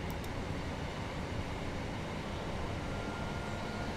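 A morning train runs on the Hadfield and Glossop route in the Train Sim World 3 game, in fine mist. The cab carries a steady, even low rumble, continuous and unchanging throughout.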